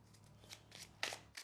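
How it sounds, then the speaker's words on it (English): A few quick, crisp riffles of tarot cards being shuffled, soft papery bursts in an irregular rhythm, close by and fairly quiet. "Let's shuffle again."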